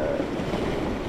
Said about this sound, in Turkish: Rüzgar karadan çok sağlam esiyor.